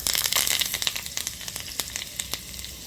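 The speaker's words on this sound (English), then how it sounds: "As the mustard splutters, add jeera" Mustard seeds spluttering in hot oil while tempering for raw mango rasam: dense, crackly sizzle with sharp pops scattered throughout, loud and close, no voices.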